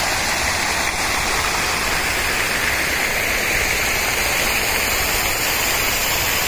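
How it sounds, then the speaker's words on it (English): Water in a fountain at the marble BAPS Swaminarayan temple in Bartlett, Chicago, splashes in a loud, continuous, even rush of broadband hiss, steady throughout with no talking. "this is a beautiful fountain where the water is colored bluish"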